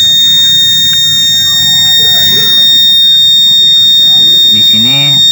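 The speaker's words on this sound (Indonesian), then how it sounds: "buzzer di sini akan berbunyi dan menandakan bahwa kelembapan itu kurang dan dalam keadaan yang tidak normal" A buzzer alarm on a soil moisture monitor for aloe vera plants sounds off when it detects dry soil. It gives a steady, high continuous tone that runs the whole time, while a person talks beneath it.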